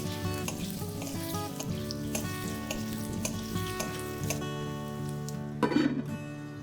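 Potatoes sizzle and crackle in hot mustard oil in a pan, a steady frying hiss with a brief stir near the end.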